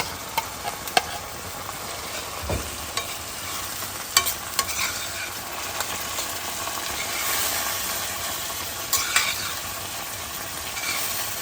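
Greek gigantes bean soup with Indian spices is stirred in a pot, a steady close sizzling, bubbling hiss with scattered light scrapes and taps of the spoon against the pot, and no talking.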